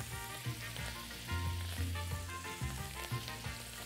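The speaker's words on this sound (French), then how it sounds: "notre beurre commence à frémir. À ce moment, on va rajouter nos morceaux de pain" Bread pieces fry in sizzling butter with garlic, a dense steady crackle filling the pan with a few low bumps and knocks from the cookware underneath.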